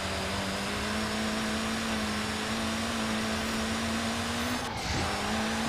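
Forza Horizon 4 car spinning its front wheels under full power, a steady strained engine tone holding one pitch with a brief sharp scrape near the end, loud and continuous.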